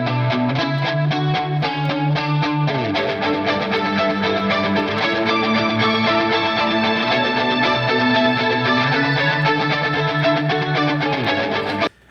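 Layered synthwave electric guitars, a long sustained lead over a chugging rhythm part, play together with effects in a dense, loud, steady mix for about twelve seconds and then cut off abruptly.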